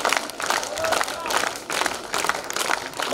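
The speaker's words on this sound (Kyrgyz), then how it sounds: "Жалпы ата-энелер үчүн бир кол чаап берели." A cinema audience at a film premiere applauds for the parents, a steady mass of clapping with crowd noise running through the whole stretch, loud and close.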